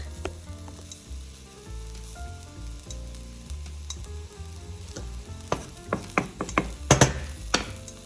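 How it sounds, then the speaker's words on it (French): Ground cumin and coriander sizzle steadily in a pan during the cooking of a healthy red lentil and vegetable dish, with sharper stirring clinks and scrapes growing busier toward the end. "Voilà, on a mis le cumin, la coriandre. On laisse à peu près 2 minutes cuire."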